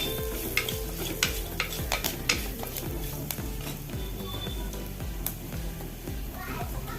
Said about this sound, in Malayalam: കാൽ ടീസ്പൂണിൻ്റെ അടുത്ത് ഉലുവപ്പൊടി ഇട്ട് കൊടുത്ത് നല്ലപോലെ ഒന്ന് മിക്സ് ചെയ്യണം